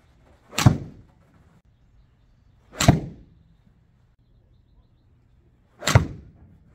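Three crisp, sharp strikes of a golf ball off a TaylorMade P790 iron, evenly spaced a couple of seconds apart, each a bright short crack with a quick decay and quiet between.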